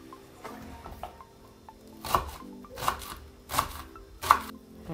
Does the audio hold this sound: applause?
no